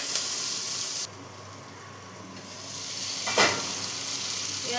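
Onion fries lightly in a pan, a steady close sizzle with a brief louder burst at the start and a swell of hissing as it is stirred, with no talking.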